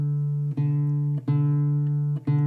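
A single sustained D-string guitar note rings steadily during tuning, briefly dipping three times as the string is re-plucked at roughly even intervals.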